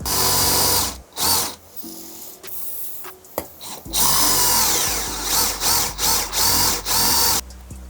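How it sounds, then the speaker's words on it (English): A power drill whines in repeated bursts drilling holes in metal, starting and stopping several times with short pauses between runs, close and loud. "make sure the drill is going straight up and down so you don't have the hole crooked"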